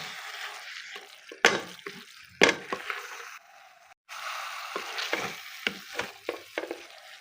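Turnip bhujia frying and being stirred in a pan, its watery sizzle broken by sharp scraping strokes of the spoon and a brief lull before the hissing and stirring resume, close and alone.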